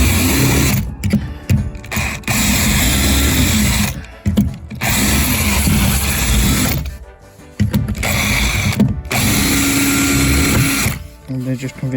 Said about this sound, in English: I'm just going to drill 2 holes next to each other